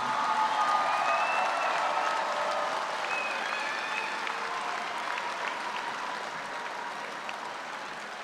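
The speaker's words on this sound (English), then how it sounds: "Please join me in another round of applause for our 2022 graduates" Crowd at a spring 2022 agriculture college commencement applauds the graduates in a broad, sustained round that slowly fades, heard from a distance in a large space, with faint cheers and whistles above it.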